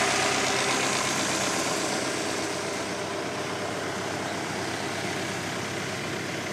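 A tractor engine runs steadily at about 1000 rpm while driving a crop sprayer through its PTO, a close, even mechanical drone with broadband hiss and no talking.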